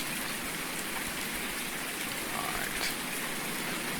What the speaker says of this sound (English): The amount of rain on this map is absolutely, really does surprise.